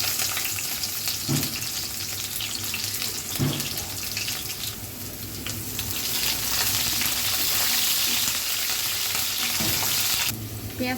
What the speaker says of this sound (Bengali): তেলটা একটু গরম হোক, দিয়ে দিব পেঁয়াজ কুচি।